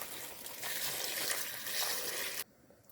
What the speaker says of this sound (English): Here comes in the water.